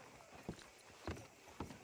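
Horse hooves in Red Dead Redemption 2: three separate hoof thuds at an unhurried walking pace, fairly close and clear against a faint background.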